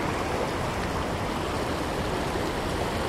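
River water rushing and splitting into many channels above Harajiri Falls in Japan, a steady broadband roar of flowing water, close and continuous with no voices.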